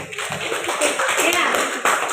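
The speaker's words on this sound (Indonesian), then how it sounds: "Tepuk tangan, tepuk tangan." A classroom group claps hands together in a short burst of quick, uneven claps, close and fairly loud, with voices mixed in.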